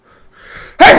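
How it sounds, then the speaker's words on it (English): A person sneezes once, hard and close, while gaming with headphones on; a short breathy intake comes first, then the loud, bright burst at the end. "I sneezed so hard that my headphones came off"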